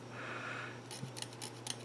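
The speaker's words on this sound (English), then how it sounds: "So you can trim them to an inch to work with." Wire leads on a K6ARK QRP end-fed half-wave antenna kit being trimmed with cutters, several quiet close snips over a low steady hum.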